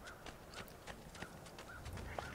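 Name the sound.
horse hooves and neighing in Assassin's Creed II video game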